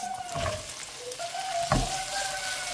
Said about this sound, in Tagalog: stir fry lang natin ito mga kaswat